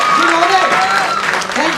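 An audience at a Hindi motivational speech breaks into loud, sustained clapping, with a voice carrying over the applause throughout.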